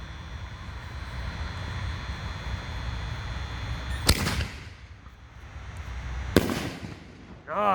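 Holy Nishiki canister shell from Raccoon fireworks bursting outdoors: two sharp loud booms a couple of seconds apart over a background rumble and crowd noise, followed by a crackling tail.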